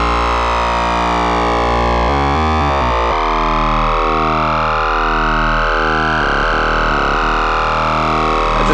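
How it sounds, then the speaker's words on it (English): A loud, sustained distorted synthesizer lead from the Shockwave iOS synth drones with sweeping, wobbling pitch modulation, buzzing harmonics throughout, with a brief stuttering break midway. "Distortion lead."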